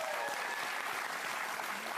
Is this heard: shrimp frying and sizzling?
no